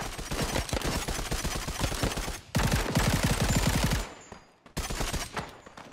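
Loud, rapid bursts of automatic gunfire in the mobile shooter Disorder, played on an iPad, with dense rattling volleys broken by a short gap before another burst resumes.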